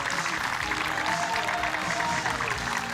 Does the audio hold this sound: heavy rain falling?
no